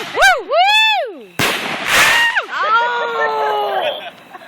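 Backyard fireworks set off by a first-time lighter, with whistling rockets that rise and fall in pitch, then a loud crackling burst and more long whistles, all close and loud.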